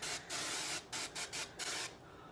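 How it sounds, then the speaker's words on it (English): Aerosol hair spray can spraying onto dry hair held close, a series of sharp hissing bursts, several short and a couple longer, with brief gaps between them. "Hold can 4 to 6 inches from dry hair and spray."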